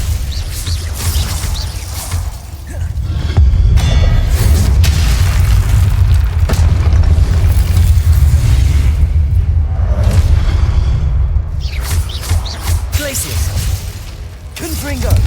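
Confringo fire spell blasts in Hogwarts Legacy, heavy booming explosions and rumbling impacts layered over dense game action and combat noise.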